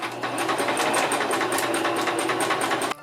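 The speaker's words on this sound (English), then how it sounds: "I sewed all of my mock-up pieces together to make a princess seam" A sewing machine stitching mock-up bodice pieces for a princess seam bodice, running steadily with a fast regular needle clatter, close and loud, then stopping abruptly near the end.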